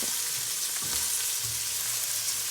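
Garlic frying in a pan for a venison steak dish, a dense continuous sizzle with a few low stirring knocks, close and steady, no talking.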